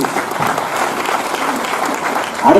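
Audience applause during a business motivational talk: dense, steady clapping from a large crowd throughout, swelling louder near the end.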